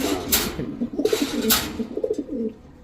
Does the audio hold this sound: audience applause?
no